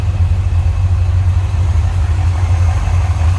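A 1973 Chevrolet Corvette convertible's original 350 V8 idles smoothly up close, a loud, steady low rumble with an even pulse throughout and no talk over it.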